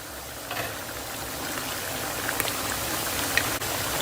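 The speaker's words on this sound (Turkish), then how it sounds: "Kaynamaya başladı" A pot of potato and meatball stew with tomato paste boiling on the stove, a steady close bubbling and gentle crackle like light rain, with a faint click or two and no voices.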